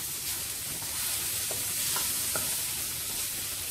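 Tomato rice masala with salt being mixed in a pan: a soft, steady sizzle with a few faint scraping strokes of the spoon, close but fairly quiet, no one speaking.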